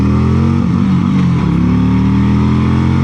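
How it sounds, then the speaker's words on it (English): A Harley V-twin 117 motorcycle engine revs hard up against its rev limiter, a loud close throbbing roar with stuttering cuts at the top before settling into a sustained rumble. "that was a rev limiter."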